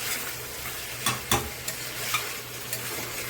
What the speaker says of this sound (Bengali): প্রায় কষানো হয়ে গেছে, দেখো তেল ছাড়া আরম্ভ করেছে মাংস দিয়ে